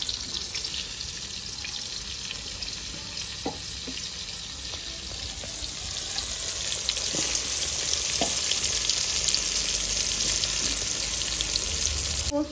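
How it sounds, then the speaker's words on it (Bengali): Pointed gourd (potol) pieces frying in mustard oil in a kadai, giving a steady hiss and sizzle that grows slightly louder partway through, with faint occasional clinks and no talking. "পটলগুলো দিয়ে দেবো ভাজা করার জন্য"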